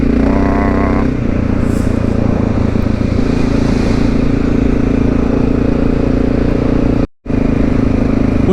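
A Honda XR650L single-cylinder motorcycle rides along, its loud, steady engine drone shifting pitch after the first second and briefly cutting out near the end, mixed with rushing wind.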